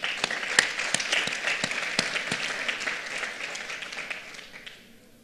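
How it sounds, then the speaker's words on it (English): An audience at a business awards presentation applauds, a sustained wash of clapping with distinct individual claps standing out, fading away toward the end. "Can we give them a hand of applause?"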